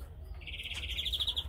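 A male canary kept outdoors gives a short burst of chirps, first a thin sustained note and then a quick run of bright, rapid pulses, fairly close and clear over low background hum.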